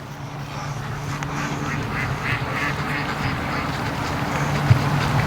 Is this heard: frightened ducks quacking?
yes